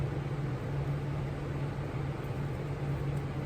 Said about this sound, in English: I've got the one in over the window right there, and it's an exhaust fan.